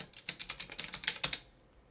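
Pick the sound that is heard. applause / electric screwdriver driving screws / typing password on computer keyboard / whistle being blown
typing password on computer keyboard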